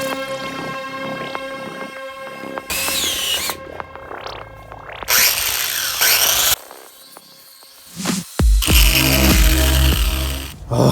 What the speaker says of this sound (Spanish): Finalmente logré hacer el hoyo, que con esa broca que corta un carajo, no corta nada.